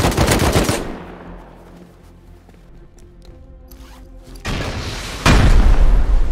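Automatic turret fire in the video game Rust, loud rapid bursts of shots that open the clip, fade to a quiet stretch of low rumble and scattered clicks, then return as dense, heavy gunfire toward the end.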